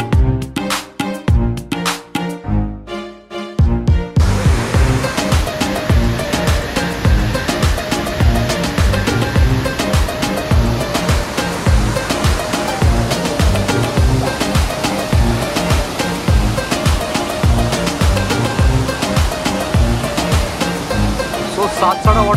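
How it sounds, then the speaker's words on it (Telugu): Roaring waterfall on a monsoon trek in Maharashtra, a steady loud rush of falling water that fills the clip, with some broken, uneven sound in the first few seconds before the continuous roar. "సాత్సాడ వాటర్ ఫాల్ అని పేరు ఉంది."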